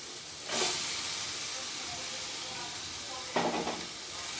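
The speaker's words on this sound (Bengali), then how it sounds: "এবার ভালোভাবে কষাতে থাকবো।" Spice paste frying in a kadai gives a steady broadband sizzle and hiss, with two brief louder bursts as it is stirred. It stays close and continuous, with no voices.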